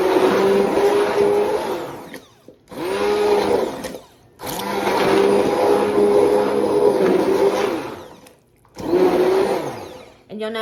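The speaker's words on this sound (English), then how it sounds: "I'm just going to use my immersion blender." Immersion blender whirring through a garden-fresh pasta sauce made with tomatoes left in their skins, in loud sustained bursts of a few seconds each, separated by brief pauses.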